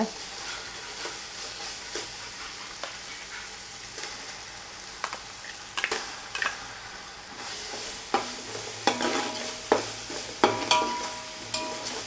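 Ground Dindigul biryani masala sautéing in a pan for mutton biryani, a steady low sizzle with scraping stir strokes and sharper clicks of a spoon against the pan that grow more frequent toward the end.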